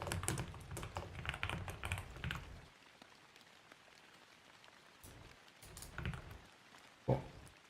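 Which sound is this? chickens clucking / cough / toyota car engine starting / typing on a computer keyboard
typing on a computer keyboard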